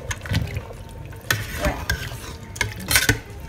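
An Antillean home-cooked stew simmers in a pot while a spoon stirs and scrapes against the sides in irregular close clinks and scrapes, with a brief spoken word.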